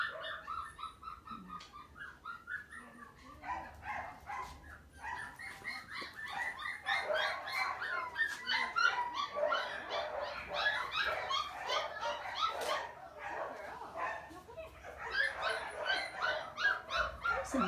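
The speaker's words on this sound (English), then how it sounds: "Some noisy puppies in the grooming room too." Five-week-old puppies, freshly bathed in a grooming room, yip, whimper and bark almost nonstop in a busy, overlapping chorus at moderate distance.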